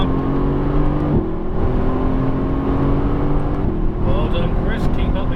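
Mercedes-AMG GT S engine on a racetrack pulling steadily under power, a continuous loud droning note with a gear change partway through, while an instructor talks over it from inside the car.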